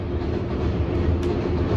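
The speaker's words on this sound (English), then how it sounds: "That's the train, it goes right outside my window." A train passes right outside an apartment window, a loud, steady low rumble with rolling rail clatter that fills the whole stretch, with no voices over it.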